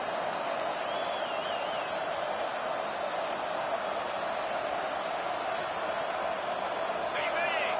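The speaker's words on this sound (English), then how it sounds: "This crowd bringing the energy and noise early." A football stadium crowd roars steadily throughout, a dense continuous wash of cheering and noise with a few whistles cutting through, loud and unbroken from start to finish.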